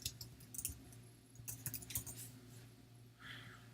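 Quiet clicking of keys on a computer keyboard as a Google search is typed, short bursts of taps separated by brief pauses, close but soft.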